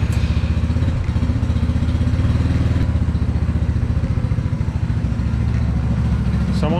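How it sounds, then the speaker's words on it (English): A Chinese Helix 150cc go-kart engine idles just after a cold start, a steady loud close-up chugging with rapid regular firing pulses and metallic clatter throughout, with no talk over it. "Here's a cold start on a Chinese go-kart."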